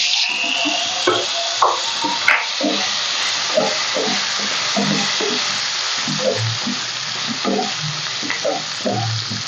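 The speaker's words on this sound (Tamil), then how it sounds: "உருளைக்கிழங்கு சேர்த்து நல்லா வதக்கிடுங்க எண்ணெயிலே நல்லா வதங்கட்டும்" Boiled, peeled baby potatoes sauté in hot oil with garlic cloves, a constant loud sizzle and hiss broken by repeated clinks and scrapes of stirring.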